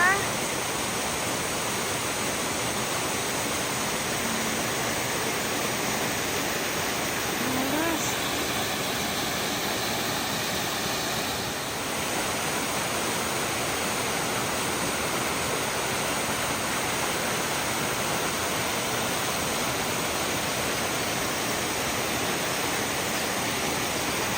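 Steady broadband rushing of Dunn Falls in Maine fills the whole stretch, constant and fairly loud, with faint voices briefly underneath.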